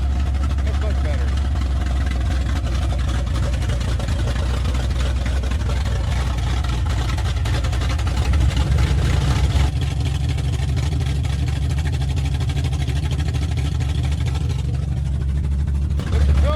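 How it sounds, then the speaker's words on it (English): A big block V8 with a tunnel ram intake in a Dodge D100 pickup idles loud and close after a cold start, a continuous rough, lumpy rumble that persists throughout while people talk over it. "Fire that baby up for this cold start, Michael."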